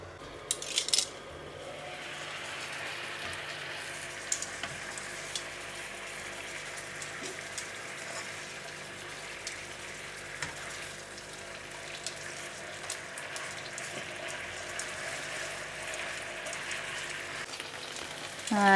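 A steak fries in a pan with Del Monte BBQ sauce, giving a steady close sizzle and crackle with a few sharp clinks and spatters, and the frying hiss holds evenly throughout.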